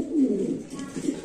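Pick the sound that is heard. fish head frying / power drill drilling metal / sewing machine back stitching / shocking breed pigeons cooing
shocking breed pigeons cooing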